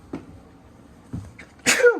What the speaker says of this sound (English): Sneeze, excuse me.